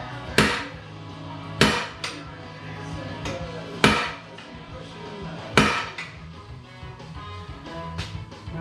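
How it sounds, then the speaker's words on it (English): A 32-ounce ball peen hammer strikes a stuck part during a YFZ 450 ATV teardown, with four sharp metallic blows at irregular intervals and lighter taps and clanks in between, close and loud, with no talking. "This is a 32 ounce, but it's ball peen."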